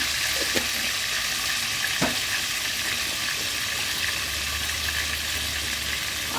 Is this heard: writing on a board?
no